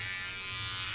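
An electric razor buzzes steadily as it shaves, a close, constant whirring hum with no pauses, heard alone.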